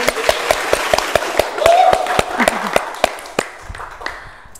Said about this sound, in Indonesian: Tepuk tangan dulu buat Kak Jil